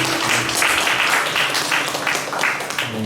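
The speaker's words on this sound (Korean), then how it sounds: "우리 하나님께 영광의 박수 올려드리겠습니다." Congregation applauding during a high school youth worship service at a church, a dense sustained round of clapping filling the room, fairly loud and steady throughout.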